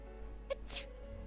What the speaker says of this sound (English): That was a cute sneeze.